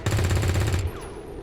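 Rapid SMG gunfire from XCOM 2 Long War 2 rattles out in a dense, loud burst for nearly a second, then cuts off, leaving a faint ringing tail.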